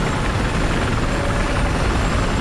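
Loud, steady rotor and engine roar of a helicopter in Battlefield 4 fills the whole clip, close and continuous with no talking.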